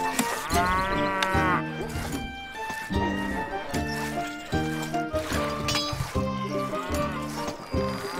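Cattle lowing in the Stronghold strategy game, sick cows: a series of loud, long, drawn-out moos one after another, close and overlapping, with no talk.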